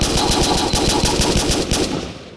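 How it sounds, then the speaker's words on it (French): Rapid automatic fire from a P190 submachine gun in a Minecraft Battlefield mod, a loud unbroken burst of closely spaced shots lasting about two seconds before tailing off. "Alors le P190 SMG qui vient de Russie parce qu'il a marqué Russian"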